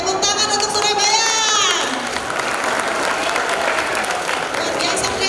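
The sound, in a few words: audience applause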